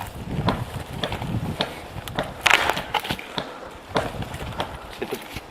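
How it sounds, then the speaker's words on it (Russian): Dry deadwood is snapped by hand between trees outdoors, giving sharp irregular cracks and crunches, with one loud break midway, over light wind noise. "Самый легкий способ будет наломать сушняк."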